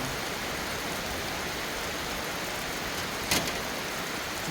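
Steady rain falling, a dense even hiss that stays constant and fairly quiet throughout, with one brief brighter burst a little past the middle and no voices.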